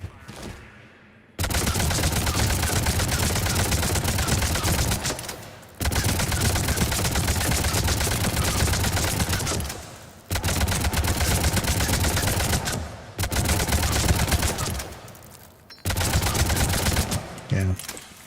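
Avenger assault rifle fire in Mass Effect 3, loud sustained automatic bursts lasting several seconds each, separated by short pauses for reloads, with a little talk mixed in.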